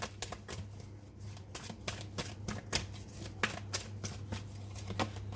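A deck of oracle cards is shuffled and drawn by hand, giving rapid crisp riffles and snaps in irregular bursts, close and fairly loud over a steady low hum.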